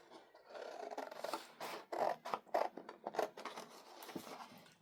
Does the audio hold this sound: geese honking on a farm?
no